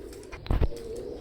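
Pure Teddy pigeons for sale, a pair, give a short, close double coo in quick succession over quiet background.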